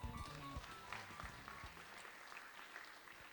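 Audience applause welcoming the keynote speaker, the CEO of TNO, at the Global Innopolis Forum in South Korea, a steady roll of clapping from a crowd that fills the whole stretch, fairly even in level.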